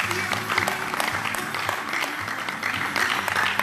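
Steady audience applause at a university economic empowerment conference, many hands clapping continuously and loudly for the full stretch with crowd noise mixed in.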